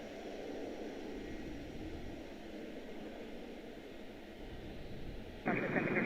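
A jet airliner at Washington Dulles airport gives off a distant, steady roar during takeoff, a broad rumbling drone that holds even throughout, with a short burst of radio-like noise near the end.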